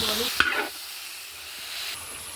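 One kilo of chopped tomatoes lands on sautéed onions in a hot pan for a Kerala-style chicken curry, a sharp hiss and clatter that fades into a quiet, steady sizzle.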